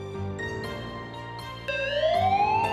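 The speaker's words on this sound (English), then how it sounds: "the sound of an approaching siren wails into the night" A wailing ambulance siren in a video game rises and falls in pitch, growing louder partway through as if drawing near, with no talking.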